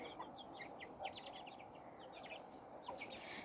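Soft clucking and high chirping from young chickens, several short calls scattered over a quiet background.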